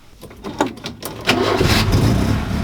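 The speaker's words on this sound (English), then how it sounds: "Can I crank her over?" A 1969 Ford Capri engine cranks with a few uneven turns, then catches and runs at a loud, steady idle with some revving. It sounds close by.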